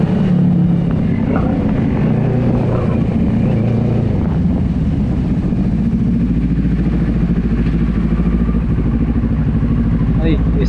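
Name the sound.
Yamaha Sniper motorcycle fitted with a big-bike exhaust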